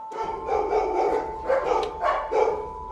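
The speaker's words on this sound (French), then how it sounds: "un chien dans un couloir de l'hôpital" A dog barks several times in a hospital corridor, with short, close barks set against a faint steady tone in the room.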